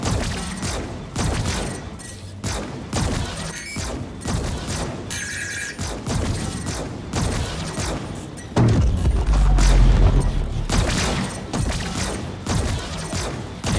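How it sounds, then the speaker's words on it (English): Loud booming explosions and rapid blasts from a Star Citizen space battle against an Idris ship, building to a heavy low rumbling burst near the end, with no talking. "Okay, got explosion."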